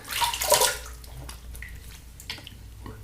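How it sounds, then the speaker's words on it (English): Water splashes and trickles close by as shaving soap is rinsed off after a shave with a Fatip Grande double-edge razor, loudest in a brief burst at the start and then settling into softer dripping and sloshing. "All right, rinse off."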